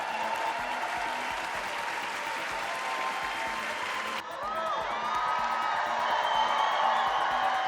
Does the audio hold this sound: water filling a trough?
no